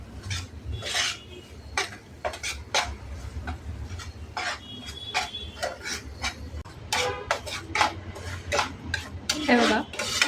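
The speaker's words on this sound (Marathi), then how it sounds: "शिरा भाजून घ्यायचा आहे." Semolina roasting in ghee in a pan over low heat for mango sheera, stirred with a spoon in a repeated rhythm of scraping and metallic clinks, close and moderately loud, with no talk.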